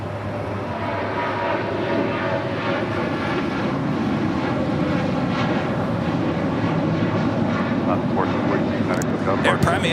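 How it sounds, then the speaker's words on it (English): An Air Premia Boeing 787 Dreamliner airliner arriving from Seoul at LAX makes a steady, loud broadband roar of jet engines that holds evenly across the stretch, with a faint rise near the end. "Air Premia, the Dreamliner, coming in from Seoul, racing over to the gates of Tom Bradley."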